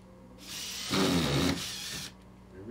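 A power drill drives screws into a wall stud, a single sustained whirring burst rising and peaking mid-way, then cutting off, close and fairly loud with no talk.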